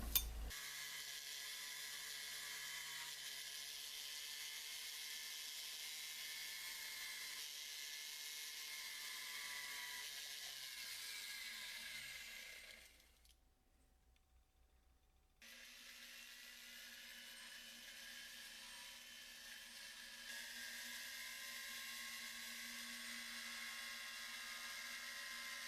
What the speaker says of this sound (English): this is a cylindrical diamond burr, and I'll true this up and make it flat